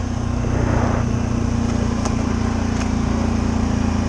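Suzuki KingQuad ATV with a single-cylinder engine runs steadily and close up, a constant low droning hum that holds at an even level with no voices over it.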